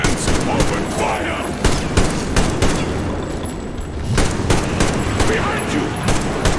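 Heavy gunfire against mutants in Metro Exodus, with rapid machine-gun bursts and booming shots that pound steadily and loudly at close range, interspersed with indistinct shouting.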